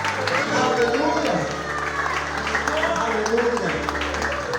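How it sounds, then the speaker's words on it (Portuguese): A church congregation applauds, steady clapping and crowd noise filling the room from start to finish, with a low music drone and a voice speaking over it. "Uma linda salva de palmas para Jesus, porque ele é digno."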